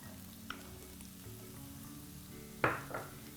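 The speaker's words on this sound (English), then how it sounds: "So we're sauteing the squash for a few minutes" Squash sautés in a pan with a soft, steady sizzle, broken by a couple of sharp utensil clinks against the pan, one near the start and a louder one toward the end.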